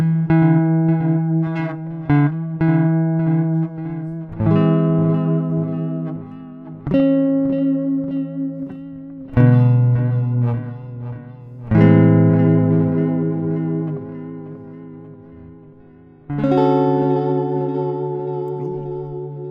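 Guitar run through a Boss DD-7 delay pedal in modulate mode, with chords and notes struck every couple of seconds and left to ring with a wavering, chorus-like echo tail, played alone without talking.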